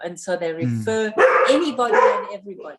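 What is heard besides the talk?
dogs barking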